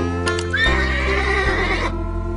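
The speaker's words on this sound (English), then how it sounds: "That's a horse." A horse neigh played by a computer animal-sounds program: one loud, clear whinny lasting about two seconds, rising and then falling, with no other sound around it.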